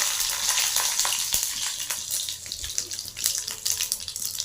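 Whole tempering spices and dried red chili crackle and sizzle in hot oil for onion chutney, a steady bright frying hiss with scattered pops throughout, close and loud with no talking.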